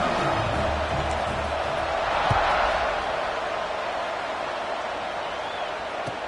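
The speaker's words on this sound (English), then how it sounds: "this crowd is buzzing after that last score" A stadium crowd buzzes in the college football video game NCAA 26, a steady, broad roar with a dull thump partway through, under faint commentary.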